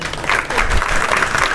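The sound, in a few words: audience applause at stand-up comedy show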